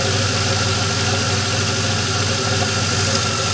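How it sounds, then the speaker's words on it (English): A DeLorean engine idles loudly and steadily up close, a continuous rough mechanical drone with an even pulsing rumble and no clear rise in pitch during the short stretch. "Blip the throttle again"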